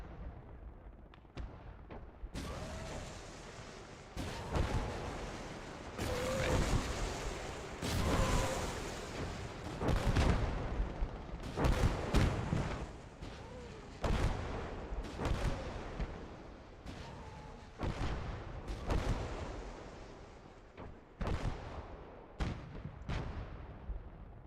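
Artillery guns fire in a Gates of Hell: Ostfront World War II battle on the Eastern Front, with repeated heavy booms and explosions, some close and loud, mixed with scattered gunfire over a constant rumbling din, and no talking.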